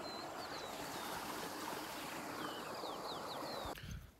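Irrigation water flows into a farm field in a steady, close rushing wash, with small birds chirping faintly over it before a brief knock near the end.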